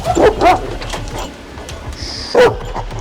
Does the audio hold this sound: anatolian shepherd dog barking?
yes